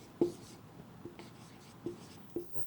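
Pen scratching on paper while figures are written out for an accounting exam answer, a few short quiet strokes spaced apart in a hushed room with no talk.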